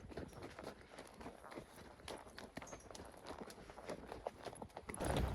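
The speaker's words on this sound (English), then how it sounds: "I have worked so long with this horse to get him to be able to lope on a loose rein like this" Faint, irregular hoofbeats of a horse loping on a loose rein, soft rhythmic thuds close by with some rustling and a louder scuff at the end.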